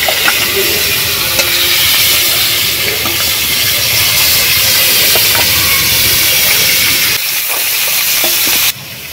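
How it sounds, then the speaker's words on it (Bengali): Heads of fresh pond lata fish frying in hot oil produce a loud, dense, unbroken hiss and spatter up close, which drops abruptly near the end, with no talking. "তেল গরম হয়ে গেছে, এবারে মাছগুলো দিয়ে দেব। প্রথমে মাথাগুলো ভাজবো"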